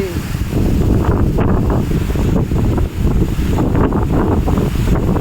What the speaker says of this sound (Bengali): দেখতে পাচ্ছ বন্ধুরা সুন্দরবনে ঝড় হচ্ছে